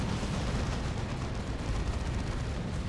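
Baneblade Demolisher Cannon firing on Tyranids in Dawn of War 2: Retribution, a dense, continuous roar of heavy explosions and rumbling blasts filling the whole stretch, loud and with no talking.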